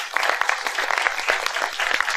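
An audience at a book launch ceremony claps in welcome, a brief, dense patter of many hands at moderate volume lasting about two seconds.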